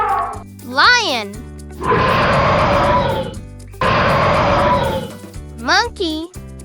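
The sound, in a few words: lion roaring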